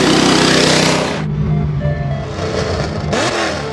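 A manual C8 Corvette with active exhaust: a loud, close engine rev with a raspy exhaust roar that drops back to a rumbling idle, then a second brief blip.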